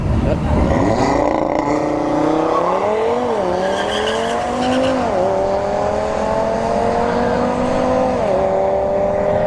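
Audi RS3 and a Kia launch side by side at a drag strip, engines roaring loud and close, revs climbing in repeated stepped surges through gear shifts over nearly ten seconds, with faint crowd noise underneath.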